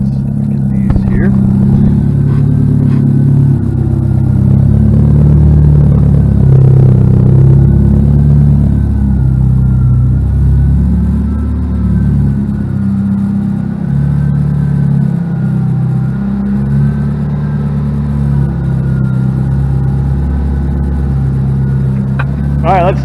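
A 1999 Mitsubishi Eclipse GS-T Spyder's engine hums steadily at a low, even pitch, loud and close, with slight rises and someone talking over it.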